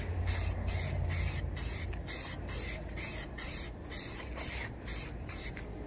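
Short rhythmic bursts of rattle-can spray paint hiss onto faded black Jeep Wrangler trim, about a dozen close, evenly spaced sprays separated by quick gaps, fairly quiet overall.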